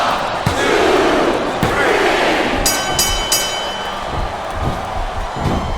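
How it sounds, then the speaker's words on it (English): A video-game crowd roars throughout a women's wrestling ironman match in WWE SmackDown vs Raw 2007 on Xbox 360, a loud, steady arena din punctuated by thuds and a few sharp metallic rings. "I think these superstars are getting some feedback from the crowd, JR."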